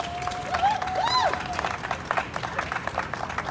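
Audience applause at a press conference, a steady patter of many hands clapping at moderate volume, with a brief whistle-like tone near the start.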